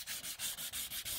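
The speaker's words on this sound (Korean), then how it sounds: "기존에 헤드라이트 위에 있는 UV 코팅을 사포로 다 벗겨내겠습니다." Sandpaper scraping the old UV coating off a car headlight by hand, wetted with water, rhythmic back-and-forth rasping strokes about seven in quick succession, close and clear with no talking.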